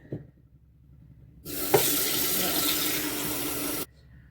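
Tap water gushes into a kitchen sink in one steady loud stream of about two and a half seconds, then cuts off abruptly, with quieter room noise before and after.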